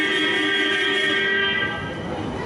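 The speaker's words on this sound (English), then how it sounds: "And it's also got a really weird horn." A Midland Metro tram's steady, multi-toned horn blares continuously for about two seconds, then fades slightly into ambient street noise.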